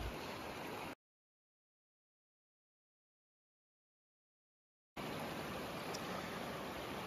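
Breccia Creek in Jasper National Park runs in high water, a steady close roar of rushing river that cuts off into several seconds of dead silence before returning unchanged.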